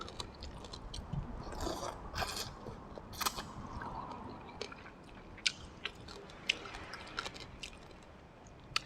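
Someone chews a spicy Thai papaya salad with pork cracklings and crispy chicken skin, close wet crunching and biting, busier early then sparser with sharp individual crunches, no speech.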